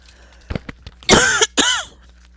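A woman coughs during a dating and relationship advice show, first with a few light throat-clearing hacks and then two loud, harsh coughs close to the microphone.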